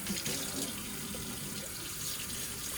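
Tap water runs steadily into a sink, a continuous close splashing hiss with faint clatter as a bowl is rinsed beneath it.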